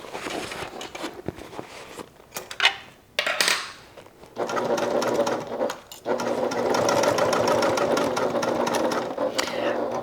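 Sewing machine stitching a bag seam at an eighth-inch allowance, opening with scattered handling clatter and short starts, then settling into long, steady, close mechanical stitching runs with one brief stop.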